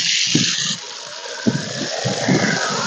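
Water gushes strongly from a freshly opened tap or pipe outlet in a fishing village, a steady rushing stream with a brief bright burst at the start and people talking intermittently beneath it.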